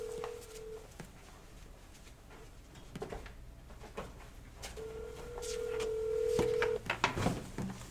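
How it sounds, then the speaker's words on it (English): A telephone call rings out through a handset, steady repeating ringback tones with gaps between them, heard close and fairly clear alongside small handling noises, with no one speaking over it. "All right, it's calling right now."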